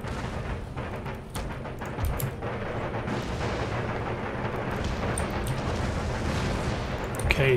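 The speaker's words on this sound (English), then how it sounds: "Just one more barrage and you are done." An artillery barrage in Empire: Total War thunders on with repeated deep booms rolling under a constant battlefield rumble. A voice speaks briefly over it.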